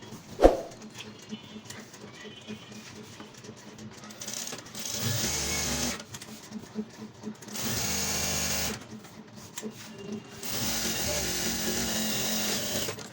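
A sewing machine stitches two petticoat panels together in bursts of running, loud and close, with quiet pauses between runs and a sharp knock near the start.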